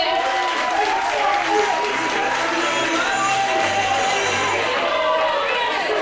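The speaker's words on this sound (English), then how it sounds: "a massive round of applause for Roberta" A large audience at a college presentation evening gives a round of applause, with dense, steady clapping throughout and a few faint cheers mixed in.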